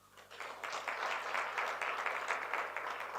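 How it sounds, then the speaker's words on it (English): Audience applause at a civic conference session, a steady wash of clapping rising within the first half second and holding at even strength to the end, fairly distant, with no talk over it. "And can we give it a round of applause?"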